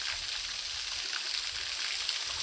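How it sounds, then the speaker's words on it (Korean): Water stream pouring down in a garden forest park, a continuous soft rushing hiss that stays even and moderately close, with no talking. "자 시원하게 물줄기 내려오시는,"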